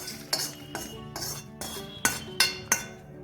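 A spoon scrapes and clinks against a pan while turmeric-coated puffed rice is stirred in oil, seven distinct metallic strokes at a fairly even pace over a quiet background.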